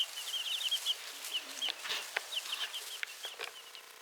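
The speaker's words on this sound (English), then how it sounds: "Get distracted by my chickens" Chickens on a homestead cluck and chirp in quick, overlapping bursts at moderate distance. The calls are fairly soft, with occasional sharper squawks and no talk over them.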